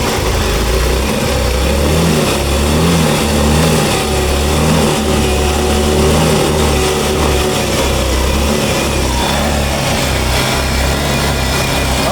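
Engine revving unevenly and sluggishly, as if bogging down, in a smoking car with a smoking engine block; a loud, close, continuous drone with irregular surges and no talk.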